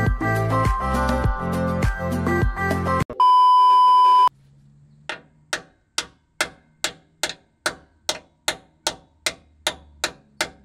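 Hammering a 14 mm socket onto a stuck rear differential fill plug on a Nissan Xterra: about a dozen sharp, close metallic strikes at a steady rhythm, following a stretch of music and a long electronic beep.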